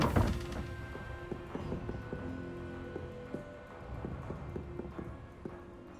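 Horse hooves clip-clop in the Hogwarts Legacy video game, a faint run of irregular knocking steps over a soft ambient game background with brief tonal accents, no talk.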